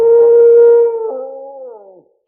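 A single wolf howls in a children's sound game: one long, clear, tonal note that holds steady, then slides downward and fades out, heard close with nothing else around it.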